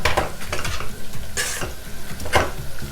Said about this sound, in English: So we're going to give that a good stir.